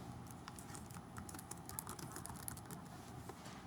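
Keyboard typing in a steady run of light clicks over a low background hum, no voices.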